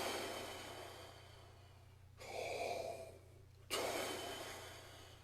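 Breath sounds alone, as for brass playing: a long airy hiss, then a stronger exhale that starts with a soft tongued T attack, with a short silent gap between them.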